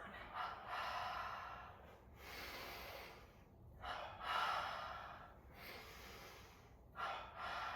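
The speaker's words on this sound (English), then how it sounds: "So we tense up with the double breath." Repeated forceful breaths with sharp snort-like bursts during an energization exercise with large arm circles, the double breath coming in clustered pulses roughly every one to two seconds against a steady low hum.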